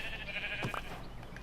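A single short bleat from a sheep in Minecraft Bedrock Edition, heard once against faint background game sound.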